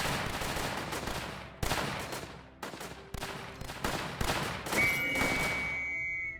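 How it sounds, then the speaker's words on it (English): Bunkers with machine guns in a World War II zombie tower defense game let off rapid bursts of gunfire, several rattling volleys with short gaps between them and a ringing tone near the end. "Oh, we even have bunkers and machine guns."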